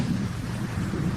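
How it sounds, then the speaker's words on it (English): Steady rain falls in a broad, even wash with low rumbling underneath, continuous and moderately close throughout, with no voices. "The rain's easing, I think."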